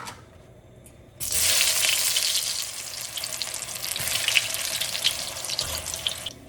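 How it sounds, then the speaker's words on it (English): Eggplant and tofu dropped into hot oil for flash frying: after a quiet start, a loud, dense sizzle bursts in and holds steady, crackling and spitting close by until the end. "we're going to flash fry it"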